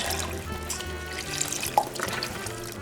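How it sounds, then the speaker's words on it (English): Beef broth pours into a one-pot Sloppy Joe soup, a steady liquid splashing and trickling into the pot for a few seconds, moderately loud and close with no talking. "so we're gonna put in some beef broth"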